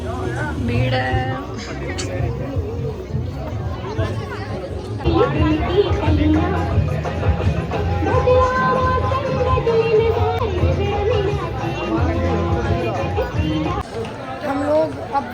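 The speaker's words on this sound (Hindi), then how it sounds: "भीड़ है।" Dense crowd chatter and babble fill the air at the Gadisar Lake boating area in Jaisalmer, a steady close hubbub of many overlapping voices with nearby talk mixed in.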